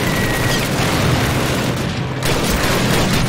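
Dense, continuous battle din of gunfire and booming explosions in the Call of Duty video game, loud and sustained throughout with rapid overlapping bursts and no clear pauses.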